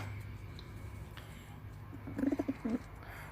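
A few soft, low pigeon coos near the end, faint against a quiet background hum; the pigeon is perched on wires and suffering from a cold and cough.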